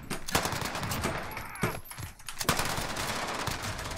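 Uzi submachine gun firing in Modern Warfare Search and Destroy, loud rapid automatic bursts close up with a short pause midway before the spray resumes.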